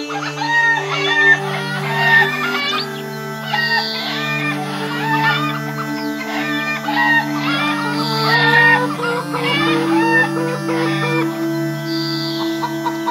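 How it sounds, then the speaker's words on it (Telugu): Cartoon chickens cluck and a rooster crows over continuous bright background music, the bird calls repeating throughout the scene with no talking. "అతని దగ్గర చాలా కోళ్లుండేవి."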